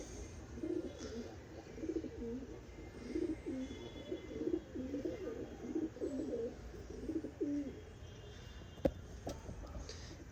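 A champion pigeon coos in a long run of soft, rolling, repeated phrases, faint and close against a quiet background, with a sharp tick near the end and no talk.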